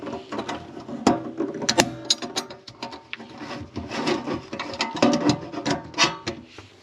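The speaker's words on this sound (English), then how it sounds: "I can go ahead and put the steel ring circlip back around." A steel ring circlip being fitted on an Insinkerator waste disposal unit, giving close metallic clicks, scrapes and ratcheting rubs in an irregular run, with no voice.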